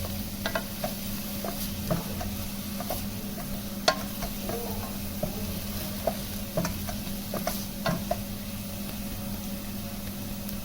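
Chopped garlic and onion frying in oil until light brown, a steady close sizzle with scattered crackles and occasional stirring scrapes running continuously throughout.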